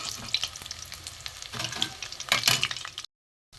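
Potol and prawn kebab balls frying in hot oil give a continuous bubbling sizzle with sharper crackles and spatters, close by, before the sound cuts off abruptly.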